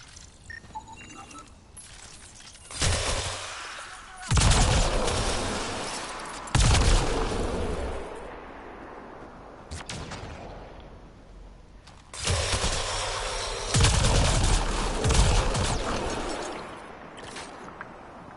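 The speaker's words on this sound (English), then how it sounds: "it's an assault rifle that shoots a laser" A modified laser assault rifle fires in a video game in long loud bursts separated by short pauses, each volley a dense roar of rapid shots with heavy low rumble.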